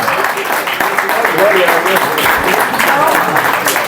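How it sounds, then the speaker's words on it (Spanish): Participants at a teacher-training session applaud loudly and continuously, a thick, close wash of clapping with voices mixed into it throughout. "a ustedes dense un aplauso"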